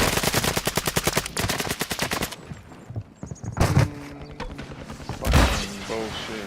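Rapid automatic gunfire bursts rattle loudly in a fast video game firefight, followed by scattered single shots and booms, while excited voices talk over the action.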